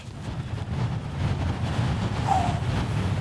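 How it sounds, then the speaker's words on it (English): Strong wind roars steadily into the microphone on a Lake District mountain summit, a constant loud buffeting rumble with no voices. "It's flipping windy."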